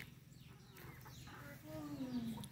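Chickens at a small yard flock, including Rhode Island stock and local hens, cluck and murmur close by, with a rising tonal call near the end over a steady low hum.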